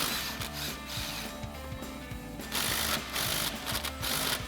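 Sway bar bolts being undone on a 1979-2004 Mustang during a rear control arm install, with rapid ratcheting clicks in quick bursts over a mechanical whir, close and moderately loud, with no talk.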